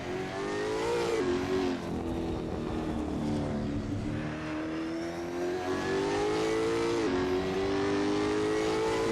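A V8 race car in a sim racing game at Interlagos revs and accelerates through the gears, a loud continuous engine whine rising and dropping with each shift, heard from onboard.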